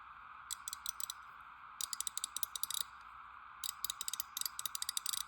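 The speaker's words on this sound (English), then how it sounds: "Yeah, a lot finer ratcheting too." A 3/8-inch drive ratchet worked back and forth, producing fine, rapid clicking in three quick bursts separated by pauses, close and crisp over a faint steady background hum, with no talking.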